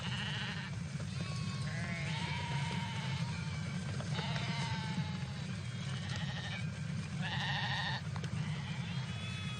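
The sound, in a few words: Judas goat and sheep bleating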